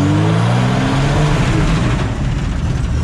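A Citroën Traction fitted with a bi-turbo V12 running on ethanol roars loudly and close as it accelerates, its engine note rising steadily over a few seconds with no talk.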